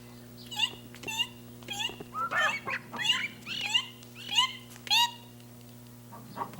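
A hen clucks in a barnyard setting in a 1979 children's show, a series of short, pitched calls repeating in quick bursts against a steady low hum, fairly close and clear.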